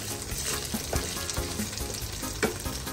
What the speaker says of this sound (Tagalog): Din lalagay ko na dito yung bawang sibuyas.